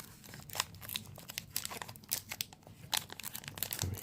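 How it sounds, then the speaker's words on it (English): Crinkling, tearing foil of a Magic: The Gathering Wilds of Eldraine booster pack being ripped open close by, a quick series of sharp crackles and rustles with no talking. "tear open this pack"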